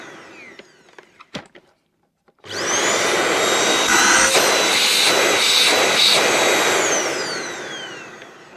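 A Vax U85-DP-Te bagless upright vacuum cleaner, a salvaged budget machine, starts after a few clicks and knocks, then its motor runs as a loud, steady roaring whine with a whistling tone and slight pitch shifts before easing off.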